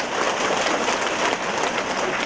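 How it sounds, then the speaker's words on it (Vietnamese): A steady wash of audience applause fills a church gathering after a healing testimony, loud and even without a break, with no talk over it. "cho một tràng pháo tay nữa thưa anh chị em"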